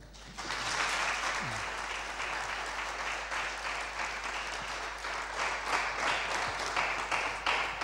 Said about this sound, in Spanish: les pido pues un aplauso de bienvenida para ellos